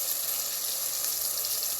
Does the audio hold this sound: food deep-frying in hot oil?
yes